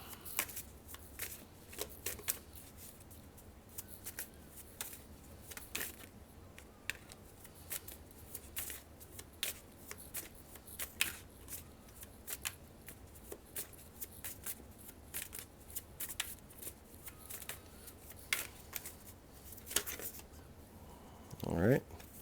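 Tarot cards being shuffled by hand in repeated quick riffling and sliding bursts, soft and close, with a person talking over them.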